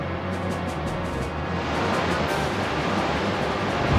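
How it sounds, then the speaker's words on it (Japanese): A Surf water attack in the Pokémon Stadium Gold and Silver video game, a loud, steady rushing wave sound that swells slightly midway, with no talk over it. "ここで波乗りだ。"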